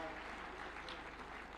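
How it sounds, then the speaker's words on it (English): Audience applause at a devolution conference, a steady patter of clapping from a crowd for a senator, fairly faint and continuous, with no talk. "Another round of applause for Senator Kajwang,"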